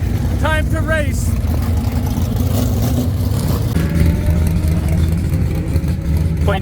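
A drag racing car revs its engine at the start line, a steady, loud mid-range drone with rises in pitch, under people talking and chirpy squeaks nearby.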